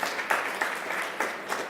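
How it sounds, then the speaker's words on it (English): Short, even burst of audience applause for Claire Munde at a Digital & Technology Week event, dense clapping with a few louder peaks and no voices. "Another round of applause for Claire Munde."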